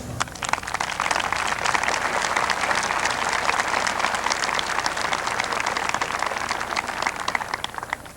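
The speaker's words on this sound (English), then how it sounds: "Let's also recognize all the faculty, staff, and students who made this commencement possible with a round of applause." A large crowd claps steadily through a round of applause at the 2001 EKU summer commencement ceremony, dense and unbroken from start to finish with no voices on top.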